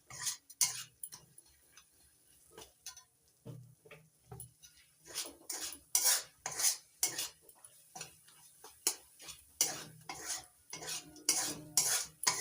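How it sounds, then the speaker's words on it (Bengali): Spice masala for a drumstick flower dish being stirred and fried in a pan, with steady rhythmic scraping and clinking of a spatula against metal over a light sizzle, close and without talk. "এবার ভালো করে মশলাটা কষিয়ে নিচ্ছি।"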